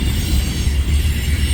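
Freight train hauling damaged, broken railcars rumbles past close by, with loud heavy low-frequency roar, rattling wheels and faint high metallic squeal running continuously throughout.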